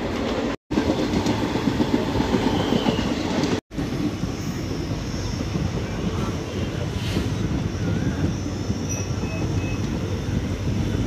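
A steady, loud rumble of a passenger train, Ferozepur Cantonment–Ludhiana express, rolling along the tracks, heard from inside a coach, with wind noise and a rushing roar that continues without a break.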